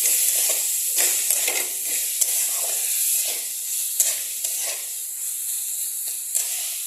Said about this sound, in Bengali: এখন সেটাকে ভালো করে নেড়ে দেবো।